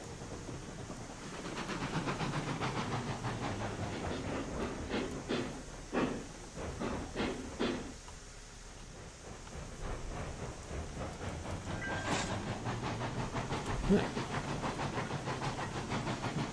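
Steam locomotive rolling back in Railroads Online, rhythmic chuffing puffs and hissing steam over a low rolling rumble, with clanks and a few sharper bursts later.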